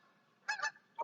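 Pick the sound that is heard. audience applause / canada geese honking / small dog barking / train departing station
canada geese honking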